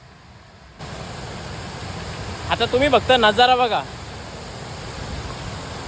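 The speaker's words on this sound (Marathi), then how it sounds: "तुम्हाला पाण्याचा आवाज ऐकून समजलं असेल" Water rushes steadily at Jambhe Dam near Shahapur and Murbad, a loud, unbroken roar that fills the scene while someone speaks briefly over it.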